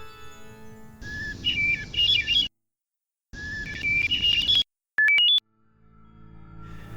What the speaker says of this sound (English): It even organizes tone in some bird song, as heard in this hermit thrush song